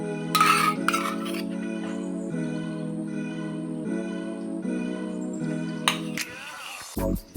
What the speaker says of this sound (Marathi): आता हे ना एक जीव करून सगळं मिक्स करून घेऊ सगळं एकत्र झालं पाहिजे